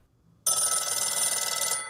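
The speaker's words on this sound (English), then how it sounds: "She lives alone and relies on her phones, even the old rotary one that worked when I called it." An old rotary telephone rings loudly and close by: after a brief quiet moment, a sustained metallic bell trill starts abruptly and continues to the end.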